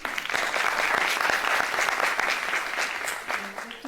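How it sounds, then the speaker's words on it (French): An audience applauding a young theatre troupe, dense sustained clapping throughout that tapers slightly toward the end. "sous la direction donc, de Mona Magdalani, qu'on remercie beaucoup, qu'on applaudit."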